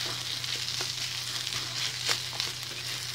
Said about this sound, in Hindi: जैसे ही प्याज थोड़ी भून जाए, थोड़ा कलर चेंज कर देती है